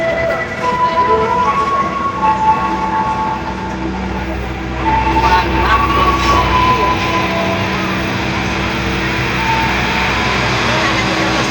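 The Pandanwangi passenger train pulls out of Kalisetail station. It gives a continuous loud rolling rumble with sustained tonal horn-like notes over it, heard up close from on board.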